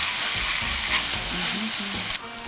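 Seasoned rice with green onions sizzles and crackles in a hot pan as it is stir-fried, a steady close frying hiss broken by light scraping of a utensil, with no voices.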